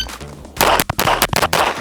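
Infinity Calvin's Cherry pistol fired in a rapid bill drill, a quick string of about six loud, close shots crowding under a second after a brief quiet pause.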